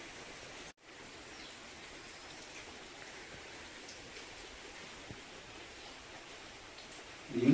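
A homemade rain instrument filled with seeds gives a steady, soft hiss like rainfall, continuous and even throughout, with a brief dropout near the start.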